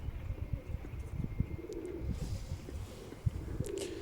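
Soft, low cooing from a young Iraqi tumbler pigeon repeats through the clip, with faint chirps and light outdoor background noise.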